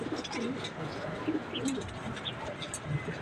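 Pigeons in a loft coo softly and repeatedly in an enclosed space, with overlapping murmuring calls and occasional wing rustles.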